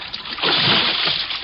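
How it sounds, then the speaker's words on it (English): A person jumps into an icy river, making one heavy, close splash followed by a brief churn of water. "I ran to the rail and vaulted over into the icy river."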